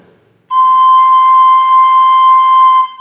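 Thai khlui flute holding a high C, one clean sustained whistle-like note lasting over two seconds, close and steady with no talk over it.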